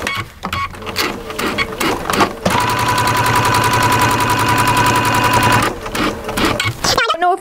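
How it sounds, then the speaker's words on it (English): Sewing machine stitching the next section of a fabric seam after pivoting, a loud, close, steady rapid stitching run of several seconds with softer starts and stops around it. "And just stitch my next section."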